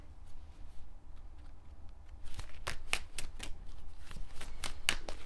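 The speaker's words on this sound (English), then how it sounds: "I'm going to pull from the fortune reading cards" Fortune reading cards being handled and shuffled, a run of soft papery flicks and crisp snaps growing busier in the second half, close and fairly quiet over a low room hum.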